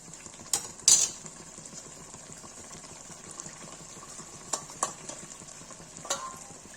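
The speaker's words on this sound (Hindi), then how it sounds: "देखिए काजू पिसा हुआ डाल देते हैं।" Ground cashew paste goes into a pan of chicken malai tikka sauce and is stirred, giving soft scraping and faint sizzling with a few sharp utensil clinks against the pan, no talking.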